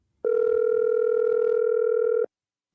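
A telephone call tone sounds during a call placed on a radio show: one loud, steady electronic tone lasting about two seconds, then it cuts off to silence.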